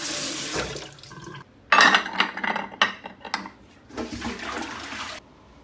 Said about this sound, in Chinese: 稍微再冲洗哈。